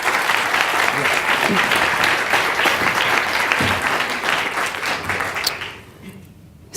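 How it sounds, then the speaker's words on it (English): An audience at a science-communication competition final applauds a speaker taking the stage, a full, steady burst of clapping that fades out over the last second, leaving near quiet with a faint sound at the very end. "Give her a round of applause"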